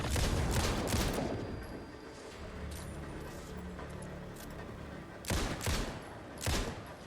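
In the Alan Wake 2 video game, loud bursts of gunfire ring out at enemies, with a heavy volley at the start and two more sharp shots later. A lower mechanical hum fills the gaps between them.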